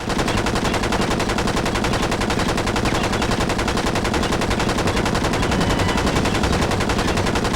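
Sustained rapid automatic gunfire from a Matrix video game, loud and relentless, with dense repeating shots over a continuous roar.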